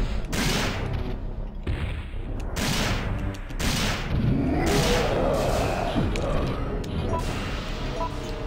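Video game gunfire in Resident Evil 3, a series of loud sharp shots repeating roughly every second, with crashing impacts and game noise in between.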